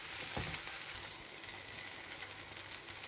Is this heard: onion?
yes